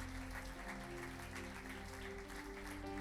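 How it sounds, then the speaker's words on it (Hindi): Church congregation claps together for the Holy Spirit during a worship session, a steady wash of clapping held at an even level throughout, with a faint sustained musical drone underneath. "जोरदार एक बार पवित्र आत्मा के लिए ताली बजाएंगे।"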